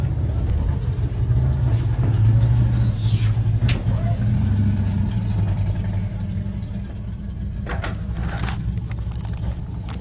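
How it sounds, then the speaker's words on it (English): A motorcycle engine rumbling outside a hotel, a low, continuous drone that swells and settles as it idles and revs at a distance, with faint scattered knocks over it. "it sounds like we got some motorcycle action out here"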